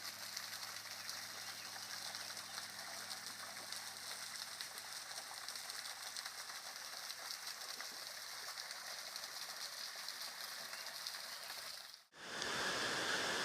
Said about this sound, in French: La cascade près de la grotte, à quelques mètres.